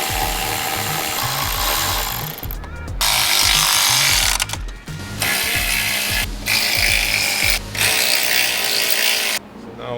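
Ratchet work on a wrecked 2022 Range Rover Sport, with bursts of mechanical clicking and whirring close by, repeatedly broken by brief pauses over a loud, busy workshop background.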